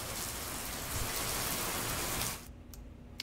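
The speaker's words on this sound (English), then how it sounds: "Rain." Steady rainfall hissing in a dense, even wash, then cutting off abruptly, leaving near silence with a few scattered sounds.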